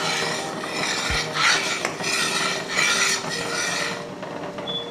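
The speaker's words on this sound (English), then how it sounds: "And you want to keep stirring so it doesn't get sticky on the bottom." A spoon stirs wild violet jelly boiling in a big pot, rasping and scraping steadily against the metal bottom in close, continuous strokes with no talking.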